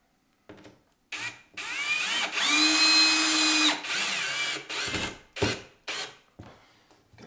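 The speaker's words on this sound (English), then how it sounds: "we're just going to run a screw in here" A power drill drives a 1.25-inch bugle-head drywall screw, with short whirring bursts, one sustained whining run of a second or so, then several quick stop-start pulses at close range, no talking.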